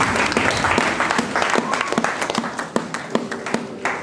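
A church congregation applauding during a service, a dense, loud burst of many hands clapping together that thins into scattered individual claps toward the end, with a faint murmur of voices mixed in.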